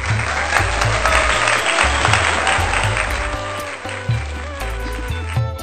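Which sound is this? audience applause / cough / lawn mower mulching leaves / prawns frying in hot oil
audience applause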